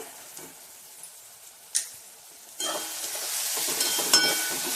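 Onion and asafoetida (hing) sauté in a pan: quiet at first with a few light scrapes and taps, then a close sizzle rises and keeps going with stirring clicks.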